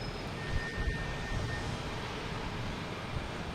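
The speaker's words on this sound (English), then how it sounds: "next coming in is United Airlines coming in from Chicago, 737-900" United Airlines Boeing 737-900 from Chicago landing at Boston Logan, a steady broad engine rumble filling the short stretch, fairly loud and unbroken.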